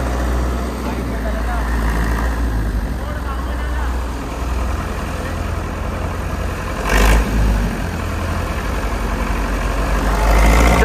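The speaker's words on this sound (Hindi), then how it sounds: "ट्रैक्टर चल रहा है अपना" A Swaraj tractor engine runs steadily at a low, droning idle-to-cruise pitch, close by and continuous, with a brief louder burst near the middle and a rise at the end.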